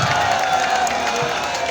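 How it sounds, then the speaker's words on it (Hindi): Audience at a Holi kavi sammelan in Banaras, a dense wash of crowd noise with clapping and cheering throughout, loud and continuous over the short stretch. "एक बार जोरदार तालियां बजे।"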